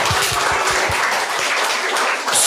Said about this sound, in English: So let's give all of the participants a hearty round of applause.